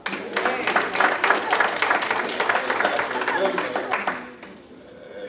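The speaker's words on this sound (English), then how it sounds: "Give yourselves a hand clap." A church congregation claps together after a choir performance, a fairly close burst of hand claps that runs for about four seconds, then drops away into quiet.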